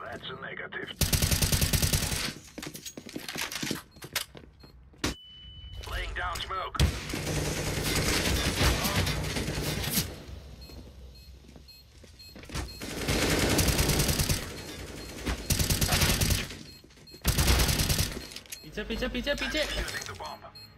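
Shotgun blasts and other gunfire in a bank shootout in a video game come in loud repeated bursts separated by pauses, with people talking between and over the shots.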